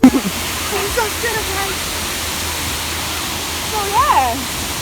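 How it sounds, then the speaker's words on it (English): Waterfall at Paradise Valley Nature Reserve roars as a steady broadband rush beneath intermittent voices talking nearby. "We found the waterfall."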